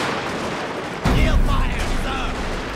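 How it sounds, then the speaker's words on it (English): Musket volley fire in the video game Total War: Fall of the Samurai: a sudden crackling volley breaks in after a second, followed by ongoing battle din and shouts. "That's it, dump your ammunition into them."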